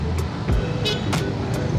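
Heavy two-lane city traffic in Cebu, heard from a Honda ADV 350 scooter, with a steady close engine and road rumble and a few brief sharp passing bursts and horn-like blips over about two seconds.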